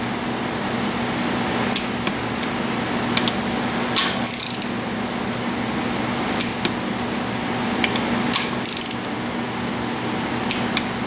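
Short ratcheting clicks from a wrench tightening bolts on a Honda CB450 engine, arriving in sparse bursts every couple of seconds over a steady low hum, close by.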